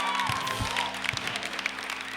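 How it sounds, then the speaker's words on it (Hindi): A studio audience on a television talk show claps at a moderate level. The applause is slightly uneven, with a faint steady tone running underneath. "बात बात पे तालियां बजा रहे हैं।"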